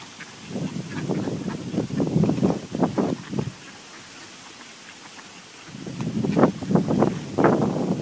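Gusty wind blows outdoors beside the water, buffeting loudly in rough bursts, dropping to a brief lull, then rising into another strong gusting spell.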